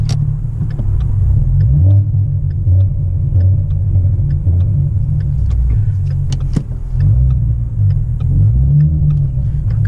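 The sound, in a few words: car engine rumbling with fluctuating RPM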